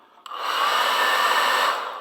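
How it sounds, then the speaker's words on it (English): A hair dryer switches on and runs steadily on high, melting wax on leather boots, a loud continuous whooshing whine close by with no voices. "It is a hairdryer. So I'm going to put it on high, probably get noisy"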